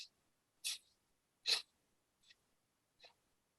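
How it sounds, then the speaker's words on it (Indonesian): Someone breathes through the nose in short, forceful bursts as a breathing exercise. There are five quick, hissy puffs spaced about a second apart, close and isolated in a quiet room. "Kedengaran saya bernapas?"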